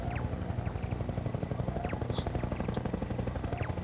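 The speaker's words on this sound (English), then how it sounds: "Why is this helicopter not dying?" Steady, dense video game helicopter rotor thrum fills the whole stretch, a constant low chopping drone with faint chirps and short noises above it.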